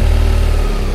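Motorcycle engine held at steady throttle during slow-turn practice in a building's parking garage, a loud, close, continuous rumbling drone with no pause.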